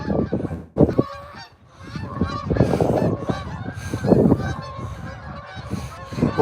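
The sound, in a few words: geese honking while flying over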